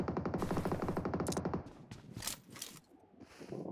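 Gunfire in PUBG on the Erangel map: a rapid burst of automatic shots rattles loudly for about a second and a half, followed by scattered, echoing distant shots and rustling movement.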